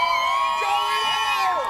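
A crowd cheers and shouts continuously, with high whoops and voices rising over a dense roar of the audience.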